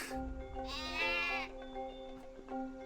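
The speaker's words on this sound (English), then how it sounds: "Hugo, they're just sheep" Sheep bleat in Skylanders: Spyro's Adventure, one loud wavering bleat rising clearly above steady game music with quieter animal calls around it.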